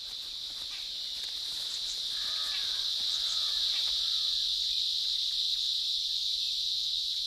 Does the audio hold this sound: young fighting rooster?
no